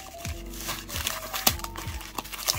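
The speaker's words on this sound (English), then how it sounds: "Shuffle them up nice and good." Sealed Pokemon Go trading card packs are shuffled by hand, making soft crinkling foil rustles and light slaps in an uneven rhythm, close and fairly quiet.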